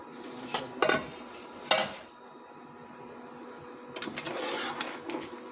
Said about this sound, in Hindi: अभी कवर हटाएंगे जी, देखिए